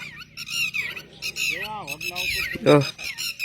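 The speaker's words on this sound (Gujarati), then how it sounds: "કાબર્યું જો" Common myna birds squawk and chatter in a busy, overlapping string of harsh calls near a riverside pond, close and fairly loud, with someone speaking briefly among them.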